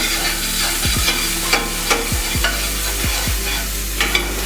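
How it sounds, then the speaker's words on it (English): Chopped shallots sizzle steadily in a hot pan, a loud constant frying hiss broken by several sharp scrapes and knocks of a utensil stirring against the pan. "I'm going to put some shallots in there because I did all that chopping"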